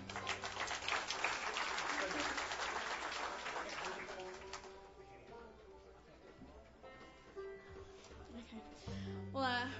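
Applause from a music festival crowd fills the first half, a dense clatter of clapping that fades into scattered claps and background murmur, swelling briefly again near the end.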